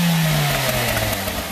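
A car engine revs loudly through its exhaust, a deep throaty roar that holds steady then eases slightly.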